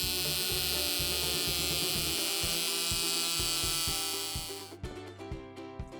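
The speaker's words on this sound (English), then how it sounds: "Using your tire pump, we're going to inflate the tire. Pump it up to 40 psi." Electric tire pump inflating the inner tube of an EcoSmart SUP/Metro HD electric scooter to 40 psi, a loud steady mechanical buzz with rapid rhythmic pulsing that runs continuously, then stops near the end.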